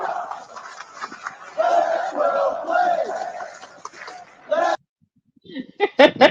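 Thousands of fans on their feet at Cleveland Browns Stadium during an NFL game, chanting the same phrase over and over in a rolling roar that cuts off abruptly, followed by a few scattered nearby shouts.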